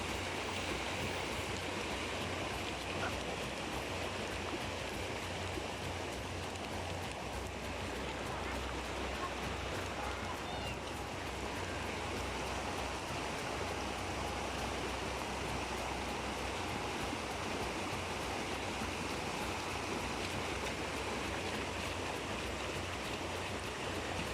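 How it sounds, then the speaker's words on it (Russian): Fast-flowing Yakutian river in the Moma district, crossed by reindeer herders, gives a steady, dense rushing roar that holds unbroken for over twenty seconds, close and continuous, with no clear voices over it. "Течение здесь настолько сильное, что запросто может сбить с ног и оленя, и провизию."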